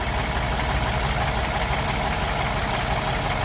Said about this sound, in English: I have the vehicle running, as you can see.